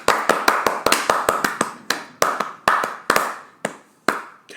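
A small group claps in uneven bursts, sharp separate hand claps that come quickly at first, then thin out into a few scattered slaps near the end, close by and with no talking.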